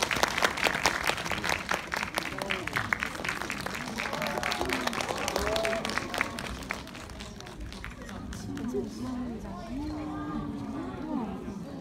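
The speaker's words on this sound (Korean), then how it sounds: "큰 박수로 맞아주세요." A packed cinema audience applauds the actors and director arriving on stage, strong clapping for several seconds that thins out while voices and chatter carry over and continue after it fades.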